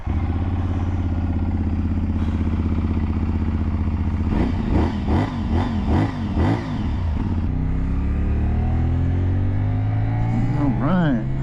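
A 2024 CFMoto 450SS motorcycle idles close by, then its engine is blipped in a quick series of sharp revs, settles back to idle, and rises again in a short rev at the end.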